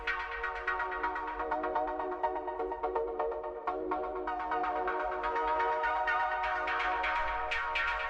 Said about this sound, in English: Next thing that we have here is this first chord stab